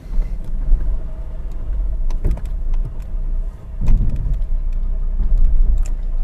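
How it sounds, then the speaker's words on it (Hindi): A car in first gear rolls over a speed breaker without the clutch pressed, a low engine hum with bumps and knocks from the suspension and body as the wheels cross the hump. "मैं क्लच को रिलीज़ करूँगा और बिना क्लच प्रेस किए ही स्पीड ब्रेकर के ऊपर से"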